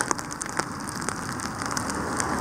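Freezing rain and sleet fall during a winter storm, a dense, steady patter with sharp ticking hits, close and fairly loud, with no talk.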